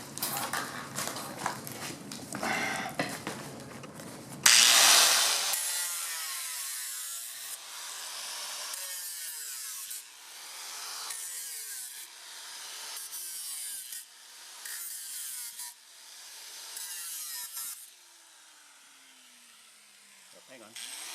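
A Maserati car seat is cut apart with a hand tool, giving a burst of loud scraping and tearing followed by a series of rhythmic rasping sawing strokes, close up.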